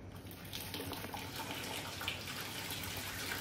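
Water splashing and pouring in a steady, continuous rush at close range, with no talking over it.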